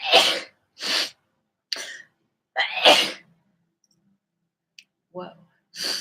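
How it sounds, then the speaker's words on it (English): Several sharp human sneezes burst out one after another, close and loud, separated by brief silences and a few small clicks. "Sneezes."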